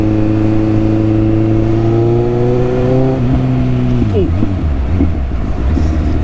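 Motorcycle engine revs in steady rising harmonic tones, then drops sharply through quick upshifts to a rougher, choppier note, loud and close, with a voice speaking briefly over it.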